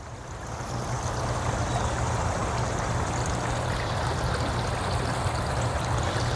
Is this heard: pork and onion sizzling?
no